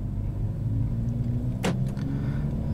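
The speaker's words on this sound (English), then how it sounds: "I have my foot off the clutch and the car is moving under its own power" A 2021 Kia Forte with a manual transmission pulls away under its own power. Its low, steady engine rumble stays close and even, and a single sharp knock or click cuts through partway in.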